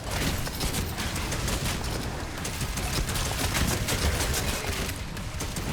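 Rapid weapon fire from the video game Doom: The Dark Ages, a dense continuous stream of loud shots and impacts with no break for the full stretch.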